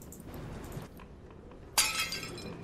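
Glass shatters suddenly in the video game Supernormal, a sharp, bright crash with tinkling fragments after a stretch of quiet ambient noise, fairly close and loud.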